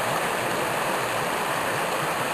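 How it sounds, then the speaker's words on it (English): A small brook flows steadily past a foggy stone wall, a continuous broad rushing and burbling of water at close range with no voices. "As the river winds and bends. Well, a brook. Not really a river."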